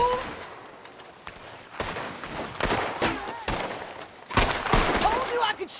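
Gunfire rings out in the video game Red Dead Redemption 2: sharp individual shots in uneven bursts, some close and loud, with a voice speaking briefly between them.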